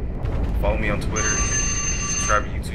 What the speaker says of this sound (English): that was the alarm telling me that the video should be over.